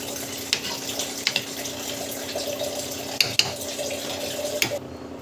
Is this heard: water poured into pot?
yes